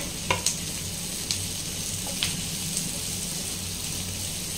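Capsicum frying in oil with a steady close sizzle throughout, broken by a few sharp spatters and stirring clicks near the start and middle.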